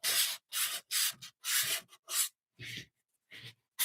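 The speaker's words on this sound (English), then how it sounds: "It's more of a light sanding." A sander does light preliminary sanding on a mixed media painting of strawberries, giving repeated rough scraping strokes in short bursts with brief pauses between, close and steady.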